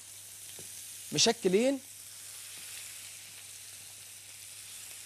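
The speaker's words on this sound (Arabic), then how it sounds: "وهنزل بحاجه بسيطه او بكميه من اللحمه بتاعتي، بسم الله، اعصج اللحمه" Minced meat sautés in a little oil in a pan, making a soft, steady background sizzle, and a voice briefly speaks over it.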